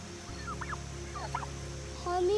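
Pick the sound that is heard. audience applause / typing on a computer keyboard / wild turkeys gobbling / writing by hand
wild turkeys gobbling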